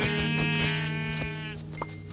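A Minecraft sheep bleats once in a long, wavering cry that fades out, followed by small game noises, close and clear.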